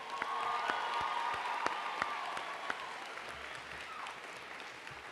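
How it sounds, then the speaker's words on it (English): Graduation ceremony audience applauding the graduates, a sustained crowd clapping heard from a distance with a few sharper individual claps standing out, faint and fading toward the end. "How about a round of applause for all our graduates here today?"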